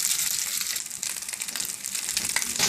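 Sausage and vegetables sear in a hot restaurant skillet for pasta con salsiccia primavera, giving a loud, dense, continuous sizzle with crackling pops and bursts of spattering fat.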